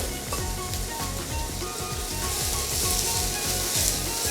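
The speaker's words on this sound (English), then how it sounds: "Now that my oil is nice and hot, you can go ahead and add some chopped spring onion." Chopped spring onion hits hot oil with a steady, dense sizzle and crackle that holds loud and close throughout, with faint stirring beneath and no talking.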